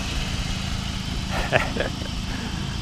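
A Hyundai Accent engine idles with a steady low rumble while someone talks over it nearby.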